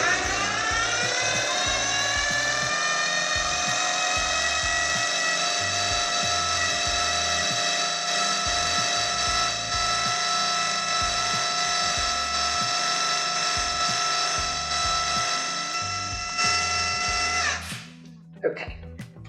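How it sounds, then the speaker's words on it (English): A food processor whirs steadily with a high motor whine for about seventeen seconds, finely chopping filling ingredients for beef wellington, then stops with a few short clunks near the end. "So I want to pulse these until they're chopped finely, but I don't want it to be a complete mush."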